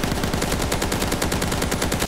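Rapid automatic gunfire from a gun in the Blockfront Minecraft mod, a steady stream of loud, closely spaced shots running without a break.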